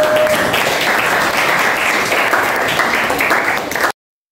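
Classroom applause from a group of students, dense and loud clapping sustained for about four seconds before cutting off abruptly.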